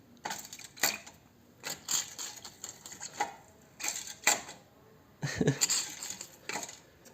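Worn Renault Megane 4 shock absorber being worked by hand, producing a series of irregular knocking, clacking metallic clunks close by, roughly one to two per second with brief pauses.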